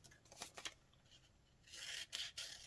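Scissors snipping through folded paper for a Valentine's garland, a few quiet close cuts in short clusters separated by pauses, with no talking.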